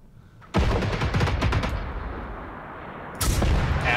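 Gunfire in the video game Generation Zero: a loud, close burst of rapid shots, then a quieter stretch and another sharp blast near the end, with no voices over it.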